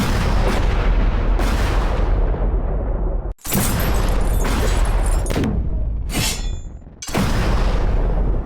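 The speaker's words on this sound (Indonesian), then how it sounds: "Mari kita lihat kalau misalkan suara senjata dan suara explosion kita gabung, bagaimana hasilnya." Layered anime sound effects mix gunfire with explosions, a dense run of loud booming blasts and crackling bursts that nearly fill the stretch, broken by a couple of brief gaps before firing resumes, with no talk.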